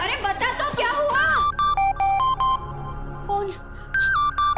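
A phone ringtone chimes in repeated melodic electronic beeps, loud and close, after a voice at the start.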